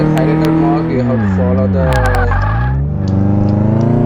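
Simulated car engine from a Car Mechanic Simulator 18 test drive, a steady harmonic drone whose pitch sags and rises as the car changes speed, with a voice talking over it throughout.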